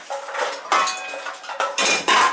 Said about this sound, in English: Put the pan on the fire pot.